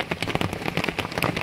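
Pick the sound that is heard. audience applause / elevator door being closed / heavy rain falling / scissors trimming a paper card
heavy rain falling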